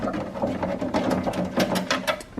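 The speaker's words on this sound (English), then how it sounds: "You have to unscrew these two screws" Screws are being unscrewed from a Gateway 2000 computer case, producing a close, rhythmic mechanical whirring and rattling in quick repeated bursts, with no voices.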